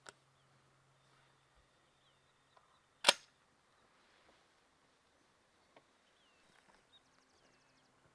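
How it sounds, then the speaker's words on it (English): A 20-gauge shotgun fires a single Apex 3-inch, 1 5/8 ounce number 9 TSS turkey load outdoors, one sharp loud blast standing alone amid quiet background with faint birdsong. "we're going to shoot the Apex 3-inch, 1 5/8 ounce, number 9 shot"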